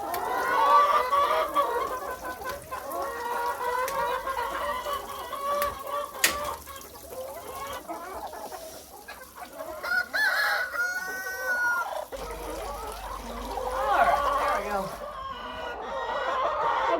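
Chickens cluck and squawk continuously inside a coop on a ten-acre Indiana homestead, busy layered calls near and far with a person speaking over them at times.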